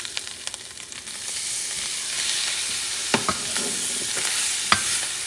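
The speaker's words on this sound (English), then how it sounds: "Now we're going to add the diced tomato." Diced tomato goes into a hot frying pan of spiced Gulf-style Kabsa base, producing a loud sustained sizzle with a few sharp utensil scrapes and clicks against the pan, no voices.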